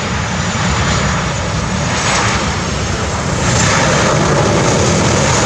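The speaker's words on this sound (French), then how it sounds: "l'avion de la compagnie Transavia a atterri sur le tarmac de l'aéroport" A Transavia airliner lands on the tarmac of Cap Skirring international airport in Casamance, a loud, steady broadband roar of engines and rushing air that holds without a break throughout.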